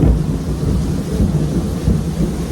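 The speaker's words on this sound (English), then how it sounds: "the thunders, but they are so loud that Billu is frightened." Loud thunder in Mumbai rolls and rumbles continuously, deep and heavy, with rain hissing underneath and no voices.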